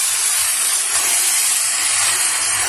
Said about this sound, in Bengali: এবারে আমি দিয়ে দিচ্ছি মেখে রাখা